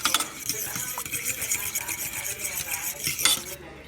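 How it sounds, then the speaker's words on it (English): A spoon stirs a pumpkin mixture with lemon juice in a bowl, scraping and clinking against the sides in a quick, continuous rhythm, close up with no talking. "We're just going to go ahead and mix that up real quick."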